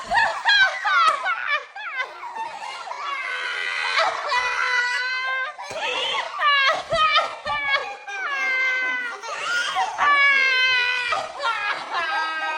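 A child crying loudly and close, in long wailing sobs broken by short gasps, continuous throughout with no other voices.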